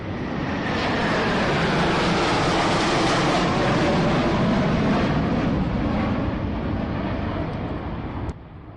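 Military aircraft engines roar in a loud, continuous rush that builds and holds, then drops off abruptly near the end.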